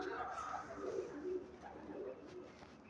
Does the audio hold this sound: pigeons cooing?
yes